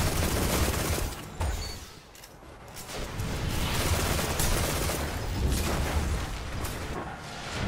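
Rapid weapon fire from a fast-firing gun in Destiny: The Taken King, loud continuous bursts with booming impacts that briefly pause and then resume, with no talking over it.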